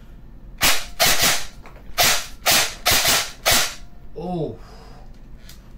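Bursts of full-auto fire from a Daniel Defense MK18 airsoft rifle, five sharp rattling volleys in quick succession, loud and close, followed by a brief spoken exclamation.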